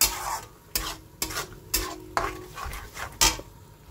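Lentil mixture being sautéed in a pan, a low sizzle punctuated by about seven loud scraping, clanking strokes of a spatula against the metal at an uneven pace.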